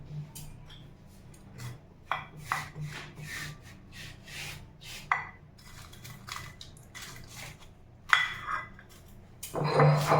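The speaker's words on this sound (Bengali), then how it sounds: "জিরে আর এই লঙ্কা ভাজাটা শিলে আমি একটু গুঁড়ো করে নেব।" Roasted cumin and dried chillies ground on a stone slab, with repeated rough scraping and rubbing strokes in an uneven rhythm, close and fairly quiet, growing louder toward the end.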